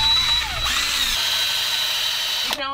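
Power drill running steadily during a camper van battery box build, a loud continuous high whine with a pitch shift partway, then slowing to a stop at the end.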